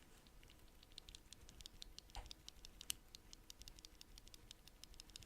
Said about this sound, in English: Let's see what these sound like. These are brown switches.